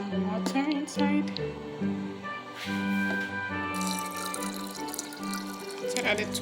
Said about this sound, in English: And I'm going to add some water inside.